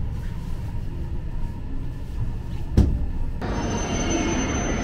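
Shinkansen train at Morioka station, coupling with an Akita Shinkansen set: a steady rumble of rolling stock with a single sharp clank midway, followed by a high, sustained whine.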